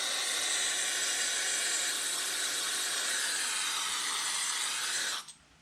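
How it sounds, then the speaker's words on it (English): Carburetor cleaner sprayed from an aerosol can into a Kawasaki Mikuni carburetor, a continuous loud, close hiss lasting about five seconds before stopping sharply. "I'm going to spray in where the needle sits"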